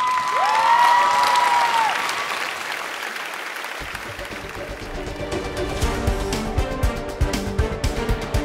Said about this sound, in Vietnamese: Thưa quý vị, vỗ tay cổ vũ cho cô bé.